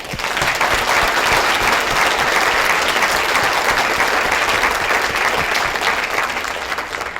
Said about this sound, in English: I'd like to ask for a round of applause for our speakers.